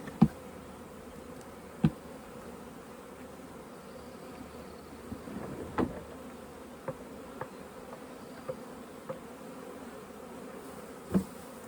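Honey bees in an apiary keep up a soft, continuous low drone, heard from close but faint, with occasional small clicks and knocks scattered through it.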